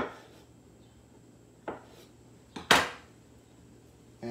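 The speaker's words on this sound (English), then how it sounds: "just make some nice slices for your sandwich with the knife at this point" A knife slicing an avocado for a sandwich gives a few sharp clinks and scrapes against a plate or board, with one louder clatter near the middle and quiet pauses between, no talking.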